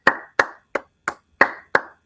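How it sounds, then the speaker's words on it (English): Six sharp, separate hand claps spaced evenly about a third of a second apart, close and clear with nothing else around them, a lone person clapping a mock round of applause after hearing that Melvin Capital was shutting down. "Round of applause, everyone."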